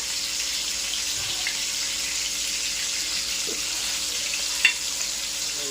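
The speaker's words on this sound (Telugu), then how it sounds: "ఇలాగ అప్పుడప్పుడు పైన నూనె వేసుకుంటుంటే కూడా రెండు పక్కల మనకి చేప ఉడుకుతుంది" Fish frying in oil in a pan, a steady close hiss and sizzle that continues evenly throughout, with one brief clink near the end.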